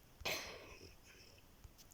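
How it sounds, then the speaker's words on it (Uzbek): A single sharp cough bursts out near the mic, followed by a fading raspy tail and a couple of faint throat sounds, with no talking. "Uzr sal yo'tal bor"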